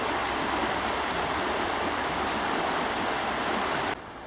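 A small waterfall on the River Stour in Dorset rushes in a steady, loud, broadband roar of falling water heard close by, with no talk.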